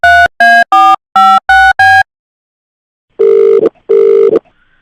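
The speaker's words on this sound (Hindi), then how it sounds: "मैं मिथिलेश को फोन कर रहा हूँ।" A phone call starts with six quick dialing tones in a row, then a pause, then two long ringback buzzes from the line, loud and clear with no voices.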